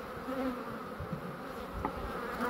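Honey bees humming from a crowded, overfull hive during a summer inspection, with frames being lifted; a steady close drone fills the clip alone, with a brief knock near the end.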